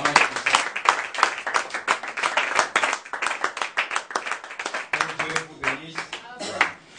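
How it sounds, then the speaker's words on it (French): Audience clapping for a presenting group at an Ecodim exposé, a lively burst of many hands close by for several seconds, with a voice speaking over the last part as the clapping thins. "Est-ce qu'on peut acclamer pour le groupe?"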